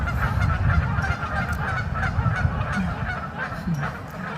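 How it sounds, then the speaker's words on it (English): A flock of geese honking repeatedly at a moderate distance, overlapping calls over a steady outdoor background. "Geese."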